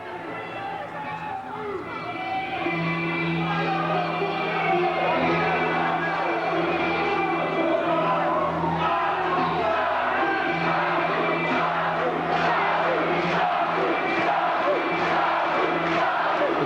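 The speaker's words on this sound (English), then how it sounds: "Crowd chants Sabu's name." At a 1998 wrestling event, a large crowd chants a wrestler's name as he enters, a loud rhythmic roar of massed voices that swells early and then holds steady, with shouts rising out of the din.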